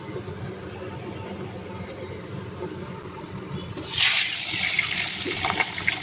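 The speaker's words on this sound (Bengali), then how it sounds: "তেল গরম হয়ে গেছে, এবার একটা একটা করে মাছ ছেড়ে দিই।" Small fish pieces hit hot mustard oil in a wok, and a sudden loud hissing sizzle bursts in partway through, then keeps rushing over the quieter kitchen background.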